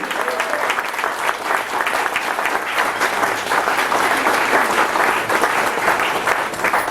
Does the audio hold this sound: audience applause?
yes